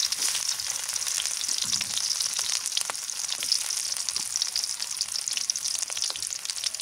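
Chopped onion sizzles steadily in hot oil in a village kitchen, a dense, even crackling hiss that holds throughout with small pops and no voices.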